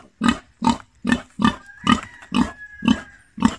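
Pigs grunting on a farm, eight evenly spaced, close, loud grunts in a steady rhythm, with a faint whistle-like tone running through the middle.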